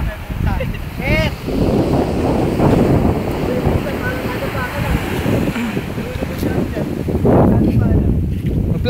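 Steady rushing ocean surf at Dingalan with wind buffeting the microphone, waves washing in continuously while people talk and shout nearby.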